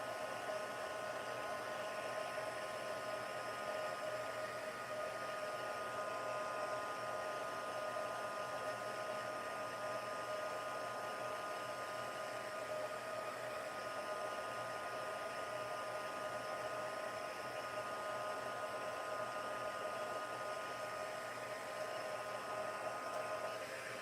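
A hair dryer blows steadily and close for the whole stretch, drying a handmade craft piece for a 6x6 summer solstice greeting card, one unbroken even whoosh with no talking.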